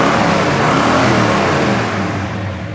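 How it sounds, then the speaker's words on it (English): A 1970 Chevelle SS with a big-block 454 V8 runs up close, giving a loud, steady, full-bodied rumble that holds throughout and eases slightly near the end. "The sound you're hearing is coming from big black 454 underneath the hood."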